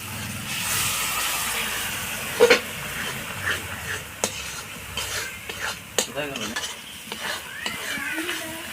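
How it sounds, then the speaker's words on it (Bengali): A spice masala with salt and turmeric is stirred and fried in a pan for a Kashmiri aloo dum. A soft sizzle runs under repeated spatula scrapes and knocks against the metal, close by, with a bit of quiet speech in the background. "এবার মশলাটাকে ভালো করে কষে নেব"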